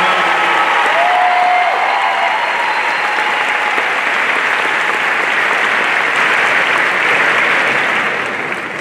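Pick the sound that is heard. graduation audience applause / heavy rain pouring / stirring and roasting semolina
graduation audience applause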